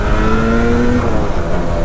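A Yamaha RD two-stroke motorcycle engine revving loud and close with the YPVS power valve engaged, a steady buzzing roar with harmonics sliding in pitch as it climbs.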